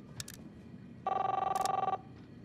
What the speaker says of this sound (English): You don't hear the phone ringing off the hook?